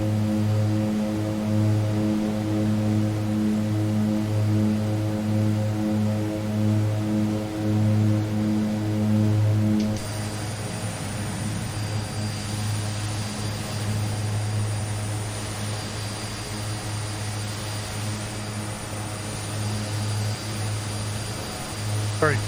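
An Aerosoft Twin Otter twin-turboprop in a flight simulator drones with a steady, loud propeller hum that pulses rhythmically, then shifts to a smoother, slightly softer tone partway through as power changes.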